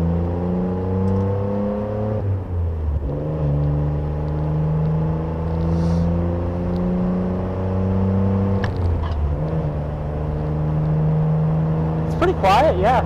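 A 1991 Nissan Skyline GT-R with an aftermarket exhaust idles and revs gently, a steady, fairly quiet engine drone that shifts pitch a few times, with faint clatter near the end.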